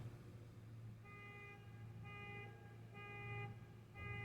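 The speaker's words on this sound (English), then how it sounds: "truck alarm going off here" A distant truck alarm honks in repeated bursts of about half a second, evenly spaced over a low steady hum, faint and without speech.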